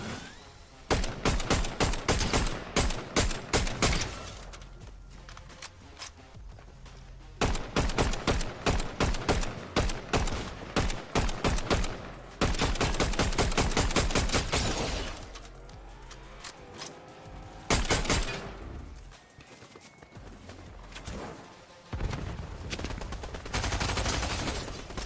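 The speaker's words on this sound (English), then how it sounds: "Oh, we're getting shot again." Video game gunfire crackles in repeated bursts of rapid shots, sharp and loud, with short pauses between volleys and a steady background of in-game noise.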